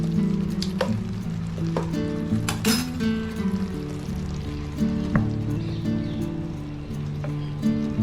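Veg Manchurian cooking in a hot pan as chili sauce goes in, a steady close sizzle and frying hiss with soft wet squishes and brief drips, no talk over it.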